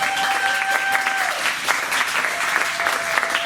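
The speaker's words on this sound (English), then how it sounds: "And let's please give them a round of applause also." An audience claps for volunteers at a club gathering, a dense, even burst of applause lasting the whole moment with a faint tone in the background.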